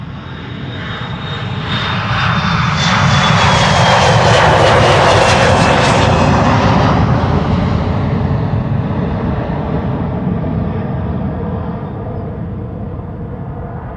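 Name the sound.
KLM airliner passing at Schiphol Airport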